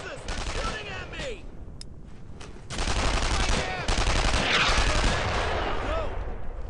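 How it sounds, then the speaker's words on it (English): Gunfire in a World War II shooter game, Brothers in Arms: Earned in Blood, with bursts of rifle and machine-gun fire crackling amid battlefield noise, fairly loud and continuous with louder volleys toward the end. "they're shooting at me"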